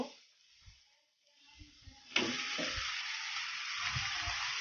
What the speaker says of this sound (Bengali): এর মধ্যে আমি আমাদের মেরিনেট করা মাংসটা ঢেলে দিব